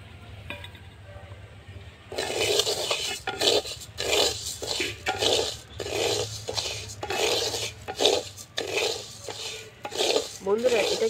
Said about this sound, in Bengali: চালটা আমি দিয়ে দিচ্ছি, চালটাও ভেজে নেব।